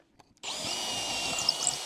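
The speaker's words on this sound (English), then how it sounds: "I'm gonna drill that hole out." Power drill boring a hole through a wooden sleeve post, a steady close whine starting abruptly after a brief quiet moment and holding even to the end.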